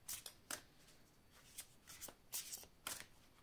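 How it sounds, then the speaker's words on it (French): Tarot cards are shuffled by hand in quick, papery riffling bursts, repeated several times at close range and fairly soft, with no talk over them. "je vais prendre donc une carte"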